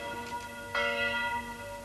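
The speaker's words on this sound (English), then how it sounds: "The bell was rung to summon the militia." A bell rung as an alarm to summon the militia in an early 19th-century Luddite uprising setting: sustained harmonic ringing with a fresh strike near the middle and another at the end, steady and fairly loud, no talk.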